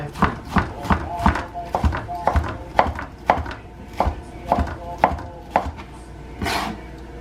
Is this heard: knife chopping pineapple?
yes